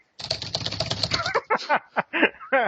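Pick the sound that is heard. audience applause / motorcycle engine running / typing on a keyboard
typing on a keyboard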